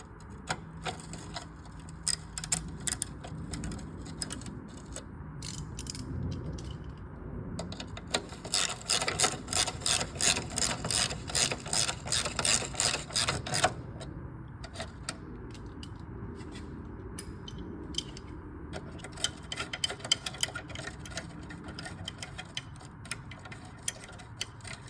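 Hand tools tighten 13 mm bolts on the oil filter housing of a 2002–2006 Mini Cooper S R53, giving quick rapid ratchet clicking in bursts, loudest in the middle, over a quiet garage background.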